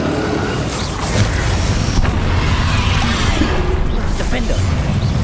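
Deep booming blast of the Bombarda spell in Hogwarts Legacy, a loud rumbling explosion amid spell-casting combat with voiced incantations over it.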